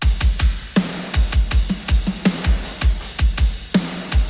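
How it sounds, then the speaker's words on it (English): A programmed drum stem from a cover plays alone: punchy kick and snare hits in a steady driving pattern with bright cymbal attacks, loud and up front. "The drums sound like this."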